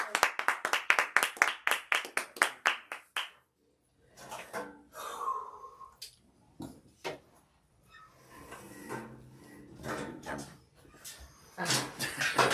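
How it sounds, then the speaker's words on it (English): A congregation at a church service bursts into a round of rhythmic clapping, loud and close, for about three seconds before fading into scattered voices, shuffling and movement noise, with a brief burst of clapping returning at the end. "Give a round of applause to the King of Kings"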